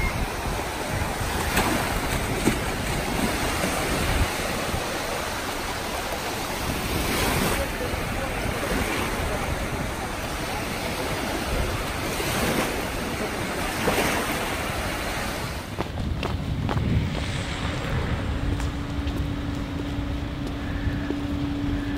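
Sea waves rolling onto the beach at Tel Aviv, a loud, continuous surf roar with rhythmic surges and heavy wind buffeting the microphone; the wind drops away near the end, leaving the softer wash of water.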